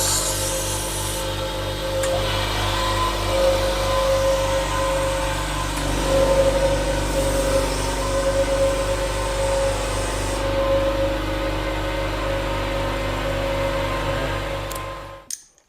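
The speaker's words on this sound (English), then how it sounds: "Can you switch on the compressor while you're at it?" A newly bought air compressor runs steadily in a car workshop during bodywork on a Ford Escort Mk1 door, a continuous low mechanical hum with pulsing throb and a faint tonal whine lasting throughout before cutting off at the end.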